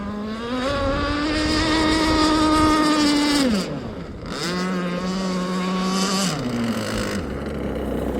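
Aeromarine Avenger 44 gas RC boat with a Zenoah 29cc engine and steel Gizmo pipe at full throttle, a loud buzzing high-revving drone that dips as it passes, surges again, then drops toward a lower idle.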